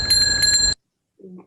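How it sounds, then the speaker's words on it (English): A bicycle bell rings loud and bright in several quick strikes, then after a pause a muffled, dulled version of the same ring follows, as it would sound on Mars. "a bicycle bell you can listen to."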